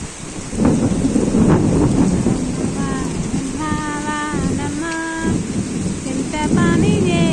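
Heavy rain pours steadily with rumbling thunder, a loud continuous downpour while a person sings and talks over it.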